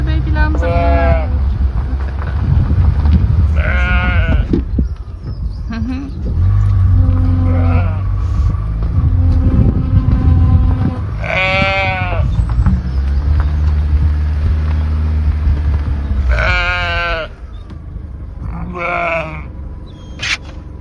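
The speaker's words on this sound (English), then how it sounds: "Oh, the baby lambs are there." Baby lambs bleat several times in short, wavering calls, some of them close and loud, over a low rumble of engine noise in the background.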